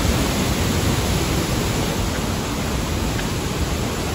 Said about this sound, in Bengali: বিশেষ করে এই যে পানির শব্দটা